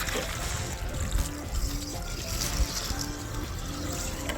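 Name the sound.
tap water running while rinsing a pepper plant's root ball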